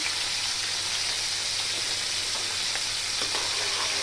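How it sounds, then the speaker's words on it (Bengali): Constant dense sizzling of onion frying in hot oil, close and fairly loud, steady throughout with no talking. "এখন আমি তেলের ভিতর পেঁয়াজ দিয়ে দিব পরিমাণ মতো"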